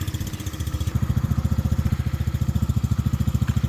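A 125cc ATV quad engine runs steadily close by with a fast, pulsing putter as kids ride it, holding an even idle-like throb for several seconds.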